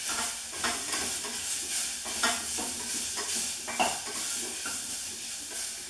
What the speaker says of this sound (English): just add in that pear. There we go. Give that a mix right up in those spices.